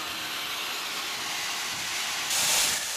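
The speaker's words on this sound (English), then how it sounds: "In the smoke box, steam from the cylinders is exhausted as a jet to the chimney" Steady broadband hiss of steam exhausting from the smoke box of a heritage steam locomotive on the Bo'ness and Kinneil Railway, continuous and fairly close, swelling briefly louder near the end.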